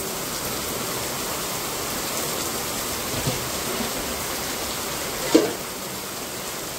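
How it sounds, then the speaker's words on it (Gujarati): Heavy afternoon rain pouring down, a dense, steady wash of noise with no break, close and loud, with one faint knock near the end. "અને બપોર પછી વરસાદ એકદમ ફૂલ શરૂ થઈ ગયો."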